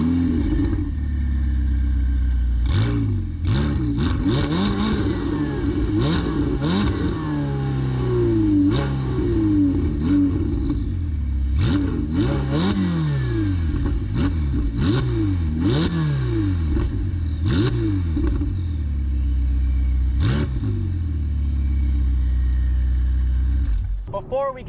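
Ferrari 488 Spider engine starting up and revving repeatedly, loud rising and falling engine sweeps with sharp blips and pops, close by, continuing for over twenty seconds before cutting off at the end.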